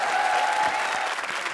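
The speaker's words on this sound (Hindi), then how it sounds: "जोरदार तालियां।" A comedy show audience bursts into loud, dense applause that carries on evenly for a moment; a faint tone hums briefly beneath the clapping.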